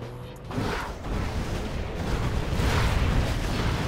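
Aurora bomber strikes landing in a real-time strategy game match, a deep rumbling explosion swelling into a sustained roar with rolling booms, loud and continuous with no talk.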